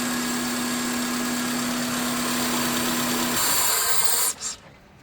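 A 2001-2005 Honda Civic engine running steadily after a starter replacement, a constant close mechanical drone with a low hum that changes tone partway through before being shut off and fading out.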